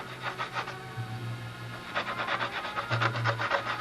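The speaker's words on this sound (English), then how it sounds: "Whenever I get to one of these rounded corners, I have a dowel with some sandpaper." Sandpaper wrapped on a dowel rubbing a rounded wood corner of a model aircraft flap, in rhythmic back-and-forth strokes, close and moderately loud, with a steady low hum underneath.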